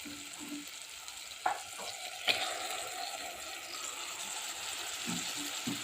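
Masala gravy goes into tomatoes frying in a pan for vegetable dum biryani, giving a steady moderate sizzle with a couple of short clinks and stirring sounds.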